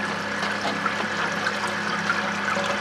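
Oil pouring steadily into the tank of an 11kV three-phase transformer, a continuous liquid gush and trickle with faint splashes, close and moderately loud with no one talking.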